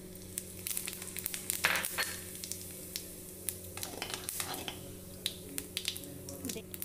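Cumin seeds sizzle in hot oil left from frying, crackling and popping in sharp scattered bursts over a low steady hiss, fairly quiet.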